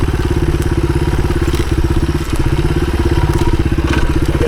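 A 1983 Honda XR200R enduro motorcycle being ridden on an enduro loop, its single-cylinder engine thumping loud and close in a steady rapid pulse, with a brief dip midway before pulling on again.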